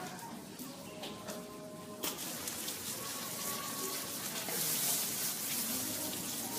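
Steady rain falls outdoors as a continuous, even hiss with a slight swell toward the end, and no voices are heard.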